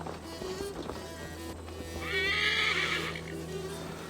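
A horse in the video game Assassin's Creed Valhalla lets out a loud, bright neigh midway, with soft hoof clip-clops and a low game hum around it.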